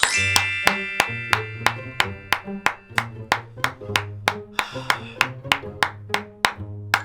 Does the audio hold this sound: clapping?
yes